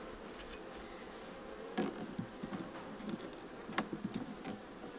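Honey bees buzz around a sugar syrup feeder with floating wooden sticks during winter feeding, a faint, steady hum broken by a few louder passes as individual bees fly close.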